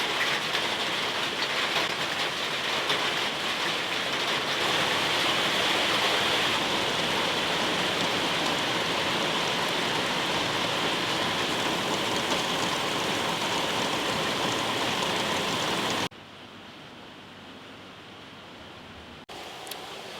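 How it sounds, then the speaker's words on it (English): Steady rain pours down in Bali as a dense, even hiss that holds for about sixteen seconds, then drops sharply to a quieter patter at the end. No one speaks. "I literally wanted to film now and it's just started raining."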